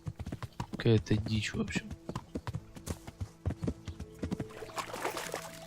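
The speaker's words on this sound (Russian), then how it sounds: "Там лошади какие-то." Horse hooves clip-clop in the medieval video game Kingdom Come: Deliverance, a quick, uneven run of close hoof knocks under someone speaking, followed by faint hissing ambience.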